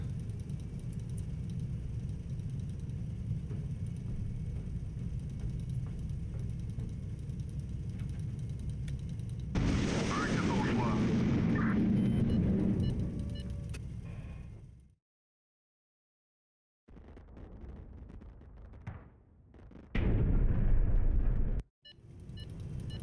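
R3 shell explosions from a warship's big gun in the naval strategy game Highfleet: a loud rumbling blast that swells over a humming engine drone, cuts to silence, then a second heavy burst returns.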